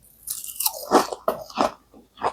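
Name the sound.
crunchy fried perilla leaf pancake being bitten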